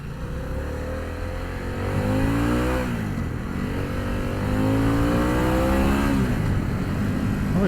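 A Harley-Davidson Pan America 1250 Special motorcycle in sport mode pulls away from first gear and accelerates hard, its engine note climbing through repeated rising sweeps between gear changes, loud and steady throughout.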